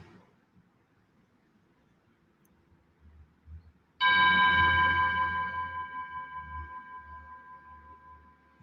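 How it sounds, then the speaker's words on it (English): A meditation bell struck once, ringing out with a bright sustained tone that slowly decays over about four seconds, after a few faint soft movements in a quiet room. "Allow the vibration of the bell to take you deeper inside yourself."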